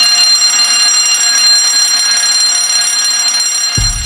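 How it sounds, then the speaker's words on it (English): A fire alarm bell rings loud and continuous, a harsh, steady metallic clang that never pauses, heard alone with no voices over it. "In case you hear the fire alarm,"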